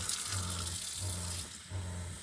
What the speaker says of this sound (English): So turn the water on here.